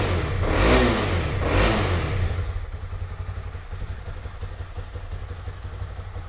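Honda CB300R motorcycle, 2020, engine revving twice in strong rising bursts close by, then settling into a steady, rough idle with a throbbing low rumble.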